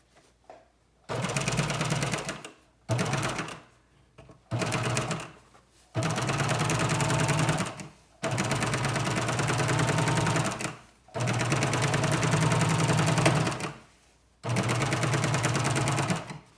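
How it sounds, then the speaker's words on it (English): Sewing machine stitching down a seam allowance around a garment neckline during a zipper installation, running in several steady bursts separated by short pauses, close and clear. "I'm going to sew the seam allowance down along the"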